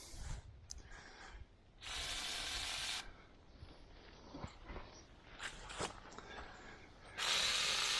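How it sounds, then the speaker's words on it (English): Two sharp bursts of aerosol lubricant spray hiss loudly onto a latch on a 1962 International Fleetstar 1600 4x4 truck, separated by quieter handling sounds and small clicks. "Spray that latch a little bit."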